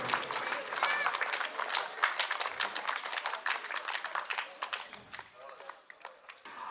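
An audience at a residents' association cultural meeting claps in a steady, moderately distant round of applause that slowly thins out, with a voice speaking faintly beneath it.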